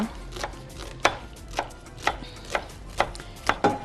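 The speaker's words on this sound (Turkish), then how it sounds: "Şimdi ben hemen soğanları e, doğruyorum." A knife chops onions steadily on a cutting board, about two crisp thuds per second, close and clear with no talking.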